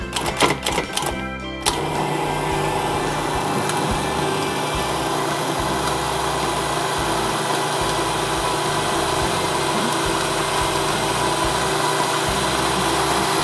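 An electric stand mixer kneads homemade noodle dough, a steady motor hum with a rhythmic knocking and thumping as the dough ball turns around the bowl, close and continuous after a brief rattling start.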